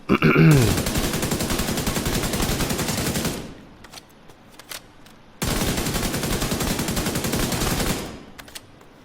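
Sustained automatic assault rifle fire in The Division 2, two long loud bursts of rapid shots from a scoped AR build, separated by a short pause with faint game sounds.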